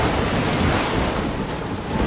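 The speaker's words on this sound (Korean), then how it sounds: "폭포가 몰려온다!" A roaring waterfall and surging waves from a Lost Ark game cutscene give a loud, continuous wash of rushing water and wind-like noise that never lets up.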